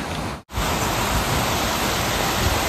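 A small waterfall of melted snow rushes in a forest in Glencoe, Scotland, a loud, steady broadband roar of falling water with a brief cut near the start, then continuous.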